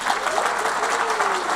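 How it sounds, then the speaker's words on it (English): Brief applause breaks out from a conference audience before a live demo, a short burst of clapping at steady level. "Give him some applause"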